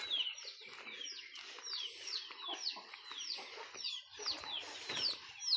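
Chickens around their coop cluck and chatter continuously, overlapping calls and clucks at close to mid distance with a few brief flutters and no one talking.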